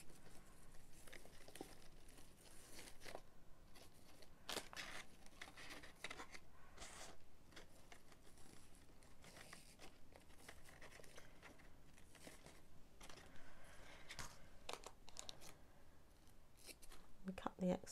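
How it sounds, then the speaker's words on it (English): Scissors snip away excess ribbon on a wrapped Christmas gift, a series of close crisp cuts mixed with faint paper crinkling and handling, with quiet speech heard beneath. "And cut the excess off."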